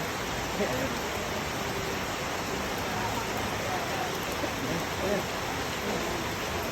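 Steady, dense rain hiss fills the scene without a break, a broad wash of falling water at even loudness throughout.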